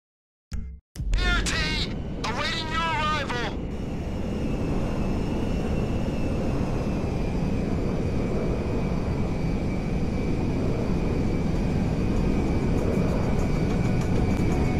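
A jet aircraft in GTA comes in to land at Mackenzie Field, a steady loud roar of engine noise filling the scene after a brief burst of voices at the start.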